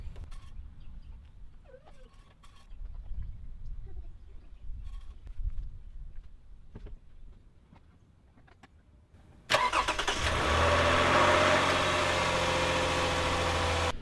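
A Toyota Highlander engine cranks and catches after an oil change, then settles into a steady, loud idle; quiet shuffling and workshop noise come before the start.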